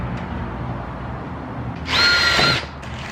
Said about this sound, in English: Do not be scared to drill into your bumper, guys.